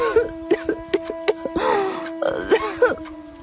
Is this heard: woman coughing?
yes